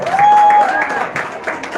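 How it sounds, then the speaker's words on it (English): Brief applause from a school Heritage Day assembly audience for the Girl Guides, a short burst of clapping and crowd noise with a whistle-like tone riding over it near the start. "could you give a big round of applause to the Girl Guides?"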